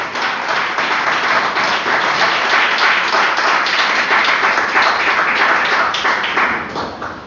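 A church congregation applauding together, a dense, loud burst of clapping that holds steady for several seconds before tapering off at the end.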